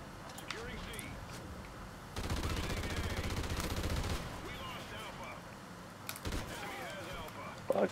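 Rapid gunfire from a Call of Duty Ghosts match on Xbox 360 rattles loudly for about two seconds in a dense burst, amid a busy game mix of scattered effects and clicks before and after.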